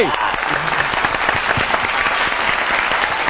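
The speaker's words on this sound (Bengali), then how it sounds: "জোরে হাততালি।" Loud, sustained applause from a comedy show audience, dense steady clapping filling the whole stretch with a faint crowd murmur underneath.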